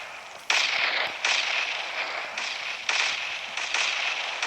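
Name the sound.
bombs exploding in video game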